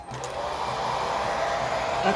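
A hair dryer blows warm air over a cosplay wig that has been sprayed with Cape hairspray to set its volume, giving a steady, close, loud whooshing hum that runs unbroken with no talking.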